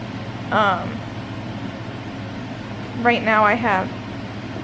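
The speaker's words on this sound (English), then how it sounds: "the noise you hear is another fan we have downstairs" A steady low whirring fan hum from a second electric fan downstairs runs throughout, with a person speaking briefly over it twice.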